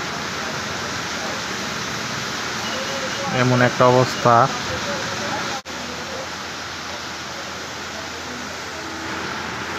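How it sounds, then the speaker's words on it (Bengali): Heavy rain pours onto a city street below a district council footbridge, a loud, steady hiss that fills the whole stretch, with a brief voice speaking partway through. "দেখতে পাচ্ছেন কি পরিমাণ বৃষ্টি হচ্ছে"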